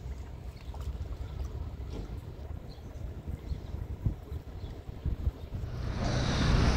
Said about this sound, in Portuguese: Tem um ventão aqui forte.